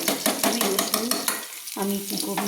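Ginger and garlic frying in a pan as a spoon stirs them, with a steady sizzle and rhythmic scraping strokes close up, plus a brief dip in the middle before the stirring resumes.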